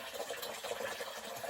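Water pours steadily from a watering can, a close, continuous splashing trickle lasting a second and a half with no voices over it.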